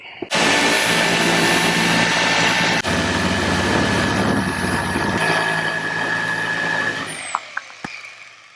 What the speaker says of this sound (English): we're going to get this sawzall out